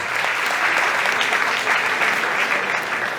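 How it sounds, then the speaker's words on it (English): An audience gives loud, dense applause at a book milestone celebration for a bestselling crime thriller, a steady wash of clapping that continues without a break. "So we give a round of applause for that."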